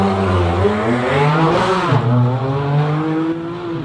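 Franco Scribante's class B5 hill climb race car, a monster from down under, at the Simola Hillclimb, revs loudly and up close, its engine note rising and falling through a continuous, full-throated roar.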